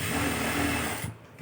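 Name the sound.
sewing machine stitching a double stitch on a chudithar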